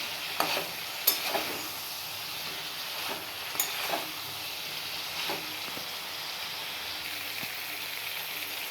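Vegetables sizzle in a pan at close range, a constant frying hiss with a few sharp utensil taps and stirring scrapes scattered through it.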